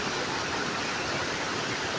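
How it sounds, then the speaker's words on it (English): Steady, even rush of a waterfall at Psilo Tendro heard from the top of the hill, a continuous broadband roar filling the whole moment with no breaks. "Just look at the waterfall."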